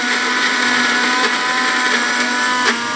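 A kitchen mixer grinder runs continuously, grinding garlic for a dal and vegetable dish, giving a loud, steady, high-pitched motor whine with no pauses or talking.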